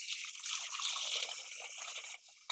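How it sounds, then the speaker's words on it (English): Water from a tap runs steadily into a bowl with a healthy layer of ice at the bottom, a continuous bright trickle and splash that stops abruptly near the end. "I'm gonna fill it with some water"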